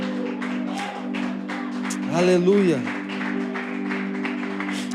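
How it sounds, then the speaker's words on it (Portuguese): Church congregation applause rising briefly under a preacher's voice, steady clapping mixed with sustained singing-like tones and a shouted exclamation in the middle. "Você pode dar um aplauso ao Senhor no teu lugar"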